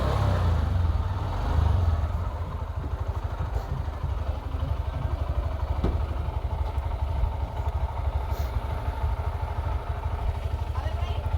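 A Honda CBF motorbike engine drones steadily throughout with a low, rumbling pulse, and a voice talks over it now and then.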